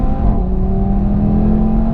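An Audi TT RS coupe's turbocharged five-cylinder engine revving on a race track, a steady loud drone with rising harmonic pitch, close and continuous with no voices.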